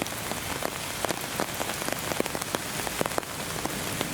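Rain patters densely on leaves and surfaces in Saddler's Woods, a steady close hiss broken by many sharp individual drops, with no voices.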